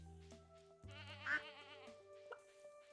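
Over quiet background music, a Stardew Valley farm goat lets out a single trembling bleat of about one second, with a few small game blips around it.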